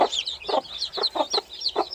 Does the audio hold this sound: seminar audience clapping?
no